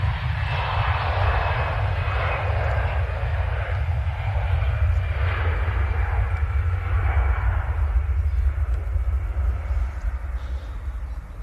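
An airliner departing Manchester Airport for Reykjavik, Iceland roars loudly down the runway and climbs away, a heavy low rumble with a thin high whine that gradually fades.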